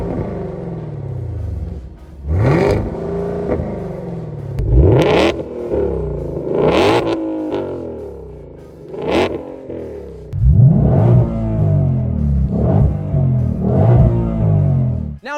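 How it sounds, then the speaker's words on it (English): Shelby GT500 and Camaro ZL1 1LE V8 engines trading loud revs in turn, sharp throttle blips rising and falling over a deep idle rumble, several bursts spaced a second or two apart. "How about a little rev battle?"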